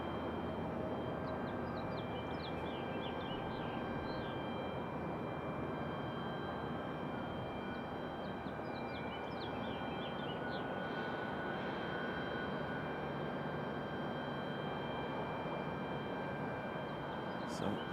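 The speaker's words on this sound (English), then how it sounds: "There's an American 737 getting ready to depart down there at the end." A distant American Airlines Boeing 737 jet idles and rumbles steadily at the far end of a runway, a continuous broadband roar with a faint high whine, heard from afar at an airport with no one speaking.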